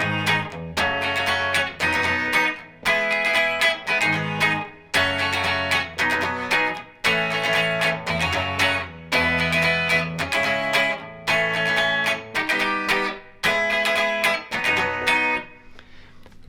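Guitar strumming of a song near full speed, steady rhythmic chord strokes in repeated bursts for about sixteen seconds, played alone without talk.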